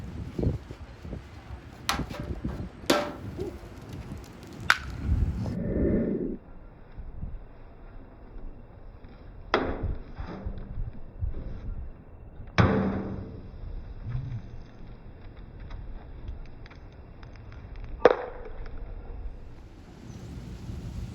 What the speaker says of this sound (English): Alright, you ready to see your film canister fly?